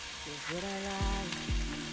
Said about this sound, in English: while we're waiting for them sausages to cook